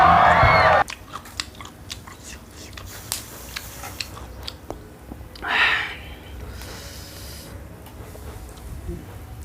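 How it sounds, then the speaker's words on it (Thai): Someone eats grilled pork close to the microphone, with wet biting and chewing sounds and audible breathing, plus a brief louder burst near the start and faint voices in the background. "อันนี้กินหมูย่างครับ"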